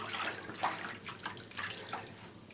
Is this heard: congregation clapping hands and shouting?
no